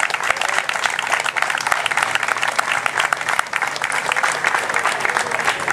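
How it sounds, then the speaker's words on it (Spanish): Dense, sustained applause from a crowd at an evening commemorative political event, loud and continuous clapping filling the room for several seconds. "Gracias por los aplausos espontáneos de ustedes"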